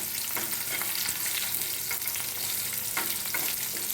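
Spices with green and red chilies frying in a pan, a steady close sizzle with intermittent scraping bursts from stirring, without onion or garlic.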